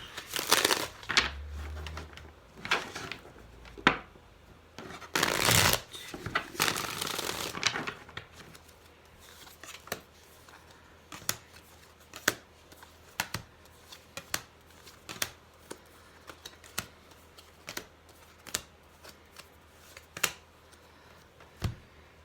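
A deck of tarot cards is shuffled in a few bursts, followed by a long series of sharp, evenly spaced card snaps and flicks, close up with no speech.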